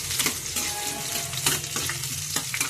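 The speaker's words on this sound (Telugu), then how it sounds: "ఇప్పుడు పచ్చిమిర్చి కూడా వేసేస్తున్నాను." Green chilies fry in hot oil for a prawn curry, a dense steady sizzle close by, with a few soft stirring knocks and no talking.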